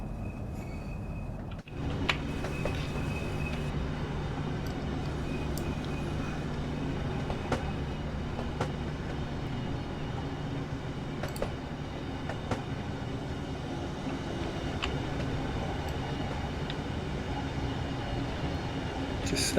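A Class 395 high-speed train climbs an uphill grade under maximum power, a steady loud rumble of motors and rolling wheels on the rail with faint clicks throughout, heard from inside the cab.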